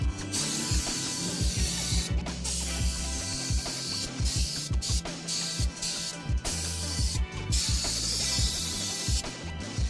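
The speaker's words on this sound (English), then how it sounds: "Time for my favorite part, tire shine. Gonna spray it on." Repeated bursts of hissing spray from an aerosol can of tire shine applied to car tires, pulsing in short rhythmic pumps over a steady background hiss, close and fairly loud.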